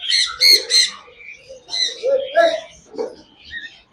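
Sharptail birds offered at a bird sale give repeated squawking calls in short bursts, close and fairly loud, with quieter chirps between them and a voice mixed in.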